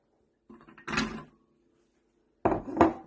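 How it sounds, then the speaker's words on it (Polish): Pieces of one chopped carrot drop into a blender jar while making an autumn smoothie in a home kitchen, giving a few hollow clunks and knocks in two short clusters with quiet gaps between. "Najpierw wrzucamy pokrojoną jedną marchewkę do blendera."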